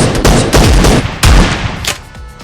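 Shotgun fire in the video game PUBG: two or three loud, booming blasts in quick succession with a short rumbling tail, close and with no speech.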